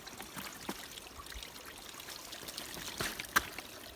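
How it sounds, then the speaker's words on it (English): River water flowing and trickling during a hiking river crossing in the Rawah Wilderness, a faint steady babble with a few small splashes, no voices. "First river crossing."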